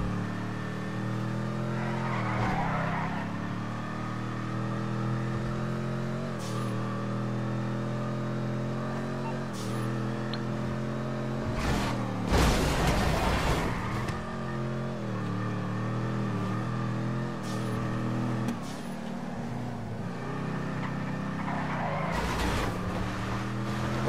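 A car driving in the GTA V video game, a steady engine drone with shifting revs and a few louder bursts of acceleration and skidding, continuous and close with no talk.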